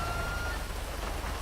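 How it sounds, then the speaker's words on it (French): Steady rain falls in GTA V with the LSPDFR police mod, a dense, even hiss of drops on surfaces that continues without a break for the whole stretch, with no voices. "par contre c'est chiant quand il pleut"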